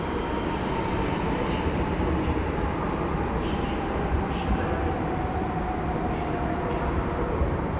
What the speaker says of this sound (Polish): Intercity Stryjeńska wjeżdża punktualnie